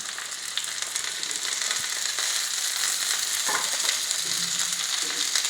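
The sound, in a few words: bitter gourd frying in a pan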